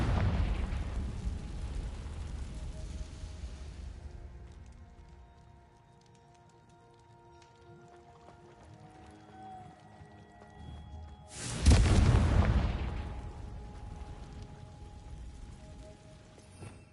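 A Confringo fire spell explodes in the video game Hogwarts Legacy, a sudden loud burst around midway that decays into a rumbling tail over quieter game ambience.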